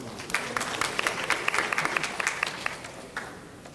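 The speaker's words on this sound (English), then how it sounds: "Can we give them another round of applause?" Applause rises from a conference audience at an HBCU Braintrust session, brisk clapping that peaks midway and fades toward the close.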